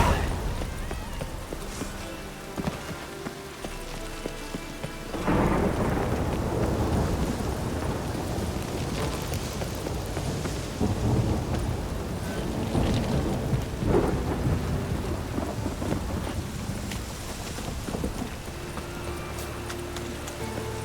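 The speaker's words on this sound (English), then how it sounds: "It's raining again." Steady rain and rolling thunder from The Witcher 3: Wild Hunt, quiet at first and then swelling into a loud, dense downpour with repeated deep rumbles that fill the whole stretch, with no voices over it.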